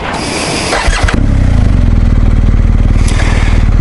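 A BMW R1250 GS HP motorcycle engine cranks briefly and fires, then settles into a loud, close, steady idle rumble with no talking.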